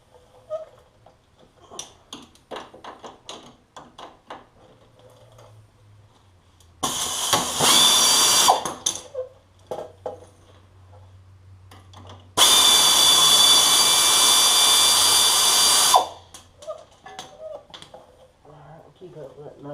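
A power tool, likely an impact wrench or air tool, spins a 17mm nut off the shock mount of a Yamaha Kodiak 700 ATV in two loud, sustained bursts, with small clanks and handling noises in the workshop between them.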